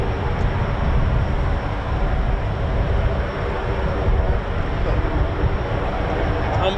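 KC-135 tanker aircraft at RAF Mildenhall producing a broad, steady jet roar that holds loud and even for the whole stretch, with no speech.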